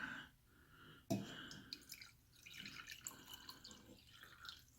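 Coffee pouring from a Barsetto portable espresso maker into a cup, a quiet trickle with a sharp drip near the start, then uneven splashing and dribbling that comes and goes softly.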